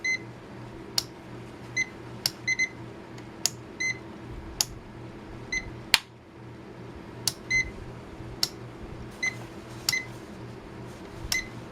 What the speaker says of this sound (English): Besides the annoying beep.